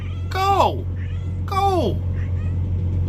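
Two loud, close cat meows, each a drawn-out falling wail about a second apart, over a steady low electrical hum with faint background noise.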